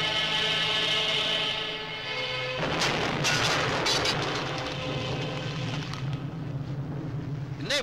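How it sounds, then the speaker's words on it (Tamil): A loud explosion in a Tamil feature film, a sudden broadband blast with a rumbling wash of debris and low booms sustained over several seconds beneath a steady tonal drone. "அதுவா வெடிச்சது."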